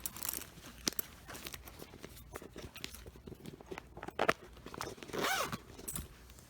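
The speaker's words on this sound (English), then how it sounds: "the zipper locks." A purse zipper is pulled open and shut in several quick, close rasping strokes with soft handling noises between them, and no voices.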